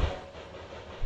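Train rumbling along in the video game OFF, with a low steady drone and soft rhythmic thumps of wheels on track over one short moment.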